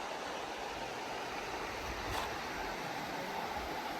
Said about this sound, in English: But look how gorgeous that river is.